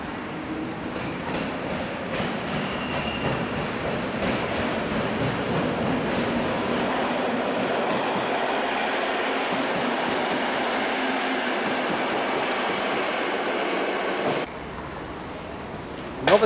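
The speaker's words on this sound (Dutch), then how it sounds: "De stoptrein naar Kerkrade Centrum." A single-unit Plan V stopping train bound for Kerkrade Centrum rumbles steadily and fairly close for most of the stretch, the broadband rail noise easing near the end before a short bump closes it out.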